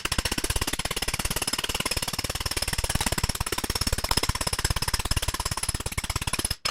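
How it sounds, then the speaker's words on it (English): Fast, continuous hammering of a sheet metal edge over a T-dolly to stretch it, a dense, unbroken run of rapid metallic blows, close and loud, stopping abruptly at the end with no talking. "And then I'll go to the T-dolly to continue stretching that edge"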